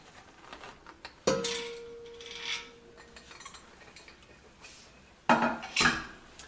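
The metal lid of a steam sterilizer is opened and sterilized materials are handled inside, with sharp metallic clanks, a ringing ding that fades, and scattered lighter clinks of metal and glass.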